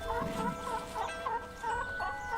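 Chickens cluck repeatedly in a steady, rhythmic series of short calls over a constant background hum.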